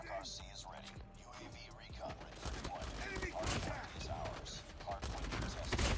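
Gunfire from Call of Duty Mobile in a match pitting the Pharo against akimbo Fennec SMGs: dense, rapid bursts and sharp shots crackle throughout, mixed with game effects while a player talks over the action.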